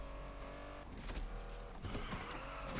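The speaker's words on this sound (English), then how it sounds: "I really like how this Bugatti sounds" A Bugatti's engine in the racing game Need for Speed Unbound hums and shifts, a fairly quiet revving tone that rises in pitch with tire noise layered over it.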